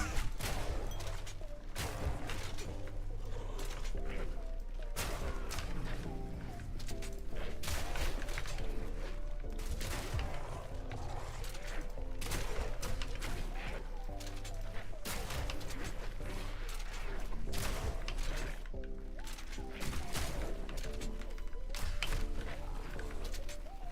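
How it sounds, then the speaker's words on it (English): Shrapnel crossbow firing in Path of Exile 2, dense rapid thumping shots and bursting impacts over a continuous bed of battle noise and music, steady and busy throughout with brief pauses. "the shrapnel crossbow is carrying the hell out of us"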